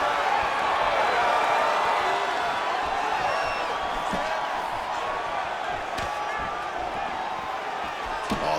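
Steady roar of an arena crowd cheering during a UFC 5 video game fight, a continuous dense wash of noise with occasional sharp thuds and whoops, no pause throughout.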